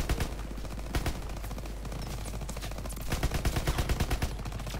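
Rapid bursts of automatic gunfire from a World War II–era Call of Duty WW2 match on Veteran difficulty, dense and continuous throughout with heavier volleys near the end, loud and close with no talking.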